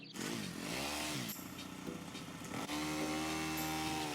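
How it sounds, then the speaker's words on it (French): A Honda Forza scooter engine starts and settles into a steady, close buzzing idle with shifting pitch, heard beside a Werkopro folding loading ramp with no talking. "démarrer le scooter"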